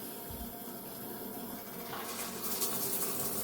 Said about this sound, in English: water running through our soft water filter, taking a minute to fill up in the shower